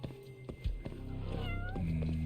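A cat meows in the video game Judgment, giving several short calls and then a longer drawn-out meow that is fairly close and clear, with a low background hum.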